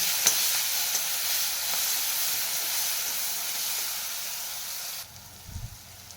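Chili and garlic dropped into hot oil for a tempering, a steady loud sizzle and hiss that carries on for about five seconds and then cuts off sharply, leaving faint low clatter.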